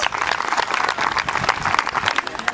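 Applause for the singing contestants at the Canta con Ámes contest in Bertamiráns, a short burst of steady clapping from an audience, fairly loud and close, with no speech over it.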